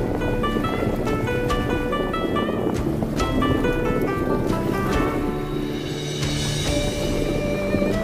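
Strong wind and choppy waves rush across the dam at Pimpalgaon Joga in Malshej Ghat, a loud, continuous roar of gusting air and water with some brief tonal calls over it.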